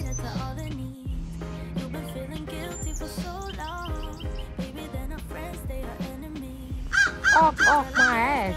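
A group of about eight large black crows caws outdoors, the harsh calls layered over a steady low hum and rising into a loud, repeated burst of caws near the end.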